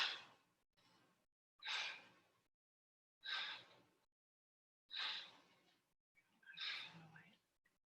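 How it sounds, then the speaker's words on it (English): A person breathes in through the nose and blows air out through the mouth during a qigong exercise: five close, breathy exhalations in a slow, even rhythm, separated by near-silence. "blow the air out through your mouth."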